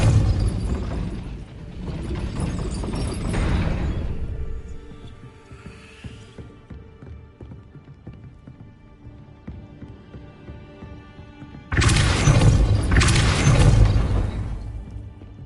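A gate mechanism grinding and ratcheting in Hogwarts Legacy, with loud crashing bursts at the start and near the end framing a quieter stretch of clicking, ratchet-like mechanical rattles.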